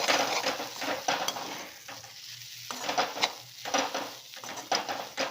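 Chickpea sundal with mango, coconut and salt is turned in a pan, with close, uneven scraping strokes over a light sizzle and rhythmic bursts of stirring.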